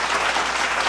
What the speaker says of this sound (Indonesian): boleh beri tepuk tangan